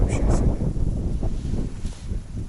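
Gusty wind buffets the microphone out on the open ice at a winter fishing spot, a steady low rumble that swells and dips throughout with no clear voice.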